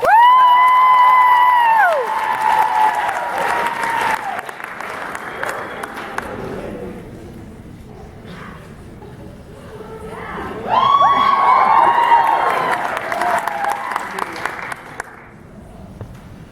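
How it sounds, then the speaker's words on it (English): Loud crowd applause with cheering and whoops, swelling again midway after a brief dip, bright shouts riding over steady clapping. "let's make some noise for Markayla Vanderhoof."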